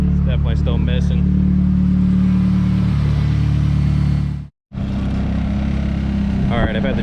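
A turbocharged KA24DE engine in a Nissan 240SX drift car idles loud and close with a rough, uneven note from a misfire, cutting out abruptly for a moment before resuming at idle.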